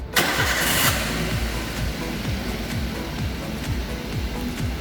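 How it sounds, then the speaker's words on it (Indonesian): Daihatsu Xenia with the K3-VE engine cranking and catching, a starter whir giving way to a steady, fairly loud idle with a low rhythmic pulse, close by and without talk. "Kemudian kita coba penyalakan kendaraannya."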